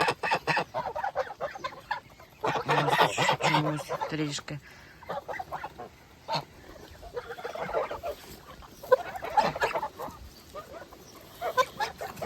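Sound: Kholmogory geese honking among chickens

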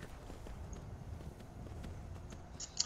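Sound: horse hoof steps in Skyrim video game

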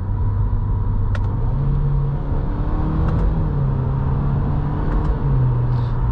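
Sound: 2023 Subaru WRX GT engine while driving and shifting gears

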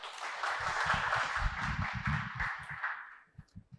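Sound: applause welcoming the speaker

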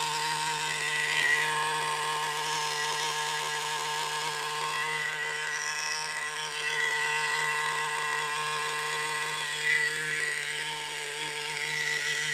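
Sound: Redcat RC model car with SH18 engine running

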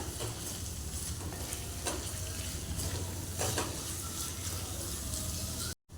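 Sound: chopped onions sautéing in a pan

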